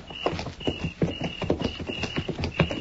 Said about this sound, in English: we'll leave the horses here